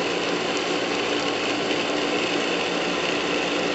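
A well water pump running steadily for irrigation at a deep open well in the Brazilian sertão, a dense continuous mechanical whir with a rattling, ratchet-like texture, close and unbroken throughout.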